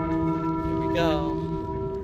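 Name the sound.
ringing a bell by pulling its rope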